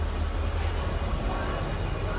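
A train rolls into Bhavnagar railway station with a continuous low rumble of wheels and carriages, loud and close, while a faint steady tone hangs above it.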